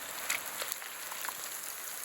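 Steady soft hiss of rain falling outdoors, with a few faint scattered drips and taps, no voices.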